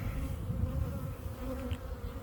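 Honey bees swarm around a hive split, a dense and continuous close buzzing with several overlapping drones and no voices.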